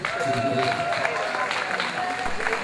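A crowd at the Bardentreff Blaubeuren music gathering applauds a musician, a dense, continuous wash of clapping mixed with crowd murmur and a lingering tone at moderate volume.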